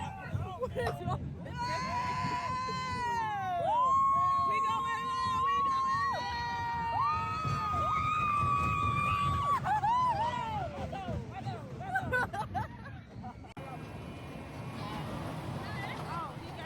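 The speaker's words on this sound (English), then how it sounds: "We're just screaming for the fun of it all." Riders on the Mantis ride at a fair let out long, overlapping high screams and whoops, loud and sustained for several seconds, over a bed of crowd murmur and mechanical rumble.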